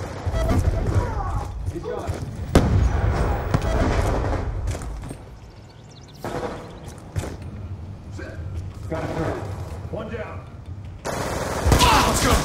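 Black Ops 2 gunfire crackles in dense automatic bursts and sharp single shots, loud and nearly continuous, while a voice calls out over the shooting.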